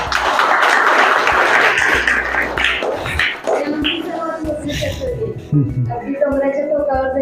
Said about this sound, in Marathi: त्यांच्यासाठी टाळ्या झाल्या पाहिजेत